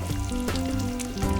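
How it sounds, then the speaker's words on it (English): Rice and two finely diced shallots brown in hot oil in a pot for moose and morel risotto, giving a loud, close, continuous sizzle and crackle. "You want to start by browning the risotto in oil, along with 2 finely diced shallots."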